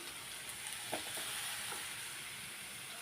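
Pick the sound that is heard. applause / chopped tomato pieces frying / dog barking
chopped tomato pieces frying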